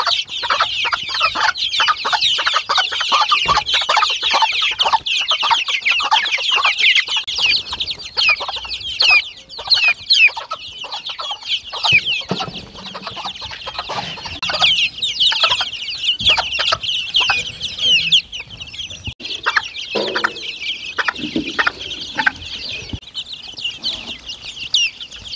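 A flock of hens clucks on a rural farmstead: a loud, close, continuous chorus of overlapping clucks and squawks with occasional wing flaps, and no voices.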